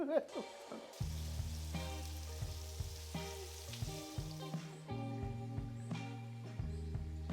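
Meatballs browning in a pan sizzle steadily, a close, continuous frying hiss with occasional clinks and stirring bumps over a low tonal hum.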